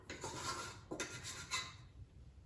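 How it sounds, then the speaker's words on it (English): Wet sourdough scraped from a surface into a mixing bowl with a dough scraper: a few close, soft scraping and rubbing strokes in quick bursts, fading toward the end. "I'm going to take a dough scraper, and we're just going to scrape that right out"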